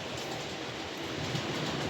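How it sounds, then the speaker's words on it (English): A continuous rattling rumble of two model trains, including a Fowler 4P, running along track, steady and close, with no talking. "these two trains I've got going round"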